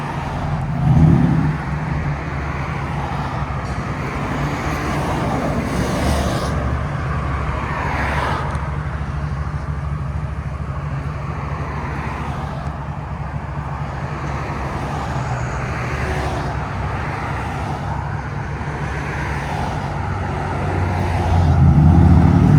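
A 2024 Ford F-150 with the 5.0L V8 exhausting through a Flowmaster Outlaw muffler, idling with a steady deep rumble and short revs near the start and end, heard close and alone.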